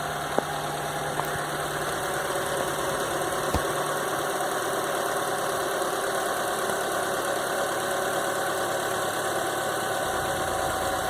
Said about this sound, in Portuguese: O carro em funcionamento após a troca